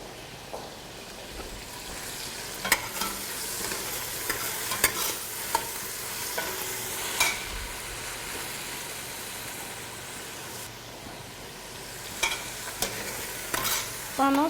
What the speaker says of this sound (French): Nous tournons en même temps notre boudou.